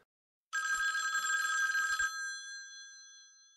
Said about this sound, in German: Hanna und Max erreicht einen Anruf aus Amerika.